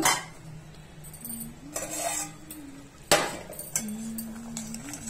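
Clinking and scraping of utensils against clay pots, a few sharp knocks among softer stirring noises, close by, with a faint voice in the background.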